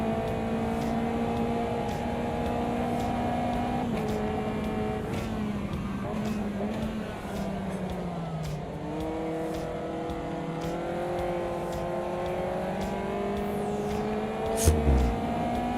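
A race car engine in Automobilista 2 holds a steady loud drone throughout, its pitch dipping and climbing as the throttle is eased and reapplied, with a brief thump near the end.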